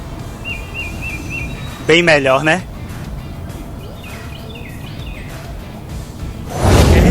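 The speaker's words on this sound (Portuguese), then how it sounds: "pelo barulho dos pássaros." Birdsong used as a sound effect to replace traffic noise: faint short chirps and tweets over a steady hiss, with a voice speaking briefly midway and a louder whoosh at the end.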